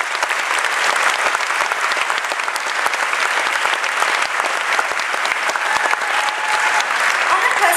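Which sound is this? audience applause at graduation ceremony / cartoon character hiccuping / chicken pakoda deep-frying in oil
audience applause at graduation ceremony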